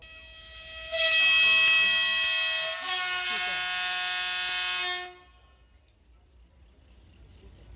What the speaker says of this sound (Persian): فرمان حرکت قطار را صادر می کنم